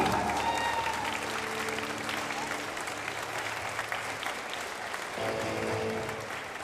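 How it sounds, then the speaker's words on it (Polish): A crowd in a sports hall at a women's handball league match greets a goalkeeper with loud, dense applause that runs unbroken through the clip, while an announcer's voice carries over it. "Wielkie brawa dla niej"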